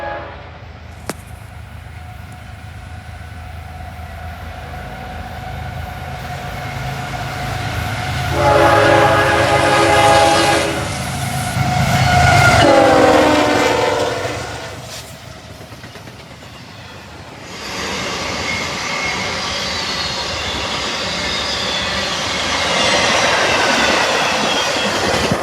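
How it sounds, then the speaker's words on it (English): A westbound Union Pacific intermodal freight train led by two GE GEVO locomotives rushes past fast at a railway museum depot, its horn sounding in long blasts over steady, rumbling wheel and car noise. "Third train was a westbound Union Pacific Intermodal with 2 GEVOs."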